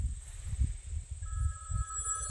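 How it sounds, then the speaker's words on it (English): A telephone rings with an incoming call outdoors in a cemetery, making repeated electronic trilling bursts over low rumbling wind noise, with no talking. "Sorry, I got interrupted uh, by a phone call."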